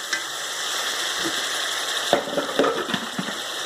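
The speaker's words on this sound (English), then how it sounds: "our sauteed onions. Okay, just gonna stir that." Sautéed onions with fresh tomato frying in a pan give a steady bright sizzle, while a utensil scrapes and clicks against the pan in short irregular strokes as it is stirred.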